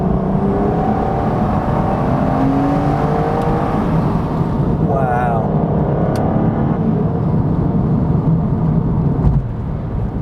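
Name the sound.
sports car engine accelerating on road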